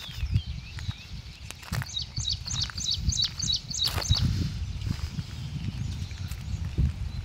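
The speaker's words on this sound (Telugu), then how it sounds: "ఉదయమే వినండి పక్షుల కిలకిల రవాలు" Morning birdsong with peacocks in a rural setting: a quick run of repeated high chirps stands out briefly over a busy low background of scattered knocks and rustles, fairly near.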